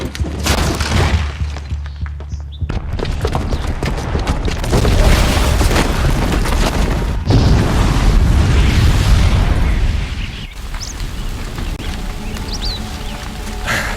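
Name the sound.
booby-trapped bomb explosion in Horizon Zero Dawn video game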